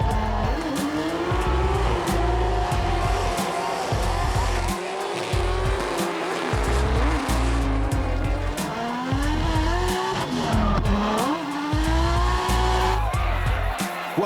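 Nissan S15 and GT Skyline drift cars compete at a Hampton Downs drifting event in New Zealand: loud engines roar continuously while their tires squeal and screech through the corners.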